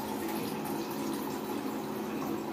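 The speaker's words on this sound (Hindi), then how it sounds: "तो मैं आरो के पानी से ही मुझे जल चढ़ाती हूँ।" RO-filtered water is poured from a small vessel as a puja offering at home, a steady close-up stream of splashing that runs evenly throughout.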